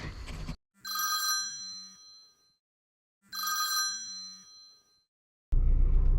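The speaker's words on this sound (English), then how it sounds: "And we got a phone call" Old-style telephone bell ringing in two long bursts with a pause between, loud and close, in a homestead setting; no talk over it.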